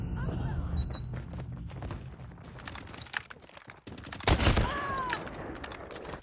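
Call of Duty gunfire, with bursts of shots and a heavy thudding blast near the middle, amid busy game effects and a voice speaking now and then.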